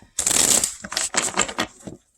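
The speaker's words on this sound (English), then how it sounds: "I want to get a good shuffle, guys." Tarot cards being shuffled by hand in several quick riffling bursts with brief pauses between, close and fairly loud.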